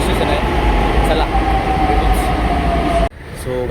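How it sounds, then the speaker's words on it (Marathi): A metro train at Khadki station in Pune rumbles loudly nearby with a steady drone and a squealing tone, then cuts off abruptly near the end, leaving quieter station ambience; people talk in the background. "माझ्या मागे पण मेट्रो स्टेशन आहे"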